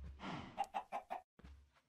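Chickens in the video game Minecraft cluck in a quick run of four short, close, clear calls, followed by a softer trailing cluck after a brief pause.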